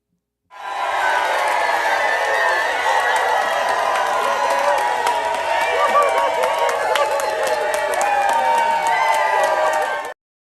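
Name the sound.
studio audience round of applause and cheering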